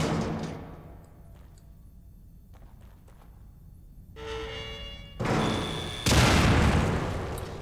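A grenade blast in The Evil Within survival horror game: after a quiet, tense stretch, a metallic ring leads into a sudden loud boom, followed by a second heavier explosion that lingers in a broad roaring decay.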